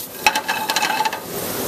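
Rock shrimp frying in butter in a hot pan over medium-high heat give a steady, close sizzle with crackling pops, while a utensil scrapes and stirs at times.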